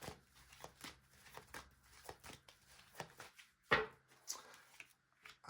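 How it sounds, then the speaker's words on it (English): Tarot cards being shuffled by hand in a quiet room, giving a series of soft riffles and flicks close by, with one sharper slap of the deck partway through. "So first of all, a good shuffle."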